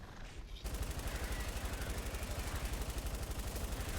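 A light machine gun fires nonstop in Fortnite Save the World after a brief quiet start, a loud, rapid, even burst of automatic shots that runs to the end.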